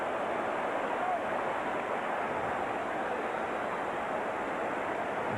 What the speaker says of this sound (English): This crowd is like a surging sea. Waves of sound around Shea Stadium here tonight